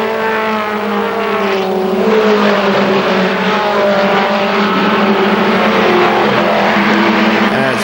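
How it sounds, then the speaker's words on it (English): An ARCA SuperCars race car at KilKare Speedway accelerates hard out of turn 4, its engine note climbing in a loud, sustained roar with other cars droning close by, while a commentator talks over it. "Foltz, though, steps on the throttle as he comes out of turn number 4, and he is gone immediately"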